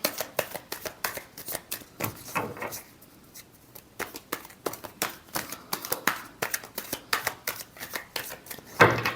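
Tarot cards are shuffled by hand in rapid, repeated riffling bursts of crisp paper clicks, close and fairly loud, with a brief pause partway through and no talk.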